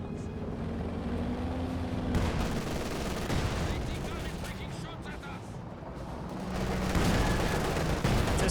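Gunfire and artillery in a Company of Heroes 2 battle between Ostheer and Soviet forces rumble and crack continuously, with dense volleys and heavy booms, under a commentator's voice.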